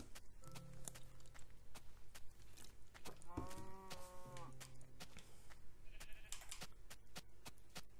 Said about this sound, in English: Wait, I hear the cow over here.